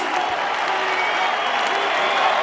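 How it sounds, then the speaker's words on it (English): An arena crowd applauds Tito Ortiz at a mixed martial arts event, a loud continuous roar of clapping and cheering with no break. "how about a round of applause for the Huntington Beach bad boy, the people's champ, Tito Ortiz."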